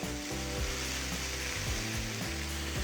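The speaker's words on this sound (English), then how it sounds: "now we're just gonna render some of that fat on the sides" Steak fat renders on the sides of a steak held upright on an electric grill, a soft continuous sizzle with faint low hum and a few small ticks underneath, no talking.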